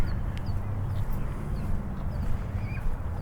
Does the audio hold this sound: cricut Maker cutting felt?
no